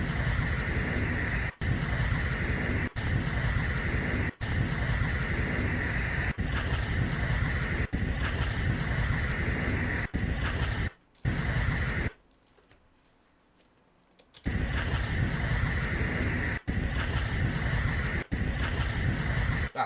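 Constant broadband roar of ocean waves and wind buffeting a recording, loud and unbroken apart from repeated brief clicks and one sudden near-silent gap in the middle.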